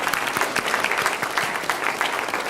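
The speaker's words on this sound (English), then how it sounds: "So let's give them another hand as they go on." Steady applause from a conference audience at an energy-sector diversity panel, as an honoured couple leaves the stage: many hands clapping at an even, moderate level across the whole stretch, with no voices on top.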